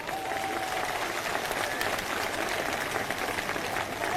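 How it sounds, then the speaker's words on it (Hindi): A crowd at a political rally claps steadily, a dense wash of applause holding at an even level throughout. "एक बार जोरदार तालियां"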